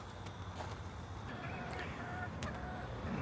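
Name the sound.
chickens clucking by a chicken coop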